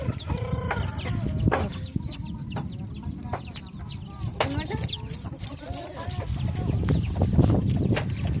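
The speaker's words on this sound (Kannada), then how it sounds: "ಕೋಳಿ ಅಂತೂ ಇಲ್ಲೇ ಬಂದು ನೋಡ್ರಿ ಕೋಳಿಗಳು" Chickens cluck and chatter close by, with a rooster's call in the mix, over a busy outdoor farmyard background and some nearby human voices.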